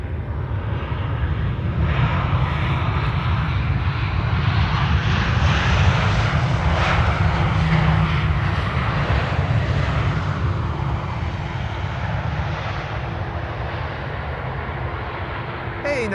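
A Chinese Boeing 777 arrives at Amsterdam Schiphol Airport during the morning rush, its jet engines making a loud, steady roar that swells gently and stays constant the whole time.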